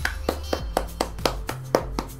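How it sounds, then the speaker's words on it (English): Steady, evenly spaced hand claps, about nine in two seconds, sharp and close, applause during a FIFA 17 career mode game session. "1 minute of applause."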